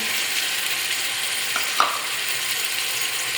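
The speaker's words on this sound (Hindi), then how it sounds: "और लहसुन भी साथ ही शामिल कर देंगे ताकि ये सारी चीज़ें अच्छी तरह फ्राई हो जाएं" Onions, ginger and garlic frying in oil in a pot with cumin for aloo pulao give a steady, close hiss of sizzling, with a couple of faint stirring clicks partway through.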